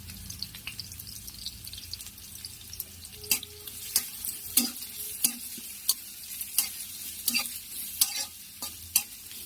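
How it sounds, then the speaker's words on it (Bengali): Onions and garlic fry in hot oil in a wok, giving a steady crackling sizzle broken by sharp, repeated clicks and scrapes of a stirring utensil, close and fairly loud, with no talking. "পেঁয়াজ আর রসুনগুলো আমি আগে ভেজে নেব।"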